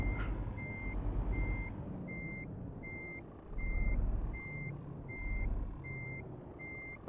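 Truck reversing while parking, its backup alarm beeping steadily about ten times at an even pace over a low engine rumble and rustling outdoor noise.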